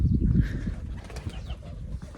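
Birds at an ancient Egyptian temple in Luxor coo and flutter nearby, soft pigeon-like calls and wing flaps against a calm outdoor background, fading after a fuller opening moment.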